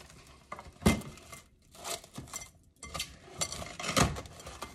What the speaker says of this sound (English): got my plastic wrap. I'm just gonna cover this